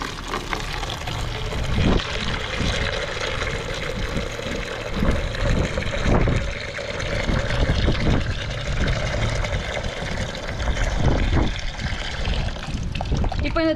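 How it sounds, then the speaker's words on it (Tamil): A bucket fills about three-quarters full with water to mix a garden feed for jasmine plants. The pour is a continuous splashing, gurgling stream that swells and eases, and a person talks over it. "இந்த பக்கெட்டில் வந்து 3/4 பக்கெட் தண்ணி நான் வந்து பிடிச்சி வந்து கலந்துக்க போகிறேன்."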